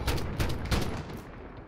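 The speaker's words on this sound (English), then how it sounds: "Light machine gun" Bursts of PKM light machine gun fire in the game Call of Duty Modern Warfare rattle out loud and close, with several rapid volleys in quick succession tailing off into a fading echo.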